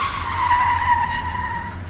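A truck brakes hard on a highway, its tires skidding in a loud, steady high squeal that holds for about two seconds over low engine rumble.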